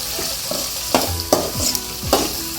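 Sliced onion and tomato sauté in a pan for spicy onion chutney, a close steady sizzle broken by several sharp scraping stirs of a spoon against the pan.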